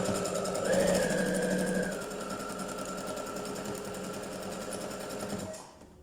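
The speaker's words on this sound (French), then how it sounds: "Je replie vers l'intérieur et j'effectue une petite couture simple." A sewing machine stitches a simple seam closing a three-layer fabric face mask, whirring steadily and close for several seconds before slowing and stopping near the end.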